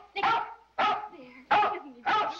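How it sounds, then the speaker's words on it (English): A dog barks four times in a steady rhythm, loud and close, each bark a short, sharp burst with a brief whining tail between them, and no talk over it. "I said you could tell him not to bark."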